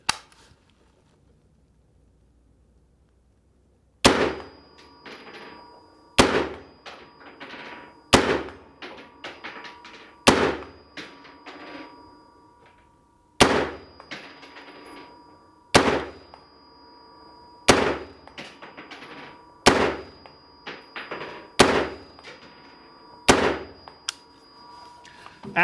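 A Brownells retro series rifle fires about eleven sharp, loud single shots at a slow, fairly regular pace, each crack followed by a brief ringing echo, after a quiet opening.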